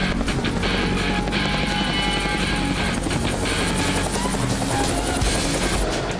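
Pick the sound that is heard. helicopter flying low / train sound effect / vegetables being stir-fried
helicopter flying low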